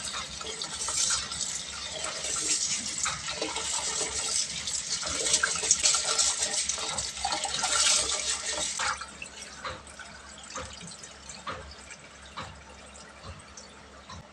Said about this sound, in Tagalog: huhugasan lang natin yung malagkit